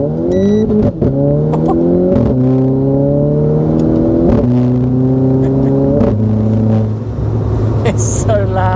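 Track-spec 257bhp Renault Clio RS engine accelerating hard through several gears, each pull rising in pitch before a shift drops it, loud and close from inside the car; people talk over it.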